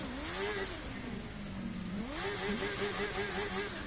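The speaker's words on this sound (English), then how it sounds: "All I can hear is that blooming motorbike." A motorbike engine in The Crew 2 racing game revs up and down through several rising pitch sweeps, loud and close, with a steady drone underneath and no talking.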